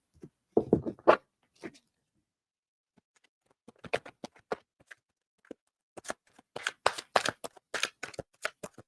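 Tarot cards are handled and shuffled close by, with a few dull taps early on, then a later run of quick flicking riffles and light slaps, with pauses of near silence between them.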